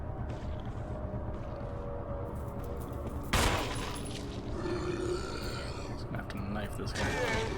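One loud, sharp shotgun blast bursts out about midway through a Resident Evil HD fight, set over steady game ambience and background rumble, with voices talking throughout.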